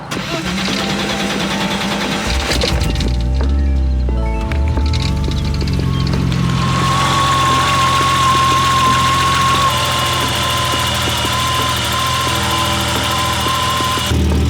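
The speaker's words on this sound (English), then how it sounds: "There's definitely an exhaust leak. That thing is so loud." A BMW E30 engine with an exhaust leak, fitted with an upgraded Walbro fuel pump, cranks and catches, then runs loud and rough at a steady idle, close by and filling the whole stretch.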